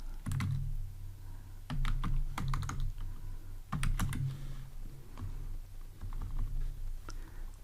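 Keystrokes on a computer keyboard come in several quick bursts of clicking, with short pauses between the runs, close and clear against a low background hum.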